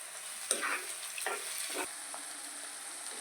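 Onions and tomatoes fry in a pan, a faint steady hiss of oil broken by a few sharp scraping and stirring clicks near the start, quiet and close, without talk.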